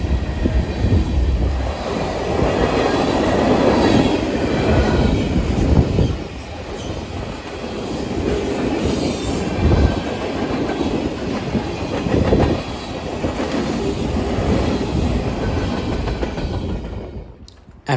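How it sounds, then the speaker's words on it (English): A huge freight train picking up speed as it heads into the St. Clair Tunnel, with loud rumbling wagons, clickety-clack of wheels over rail joints and occasional squealing, continuous and close throughout. "It was really cool watching the huge train start picking up speed into the St. Clair Tunnel to build enough momentum to beat the grade"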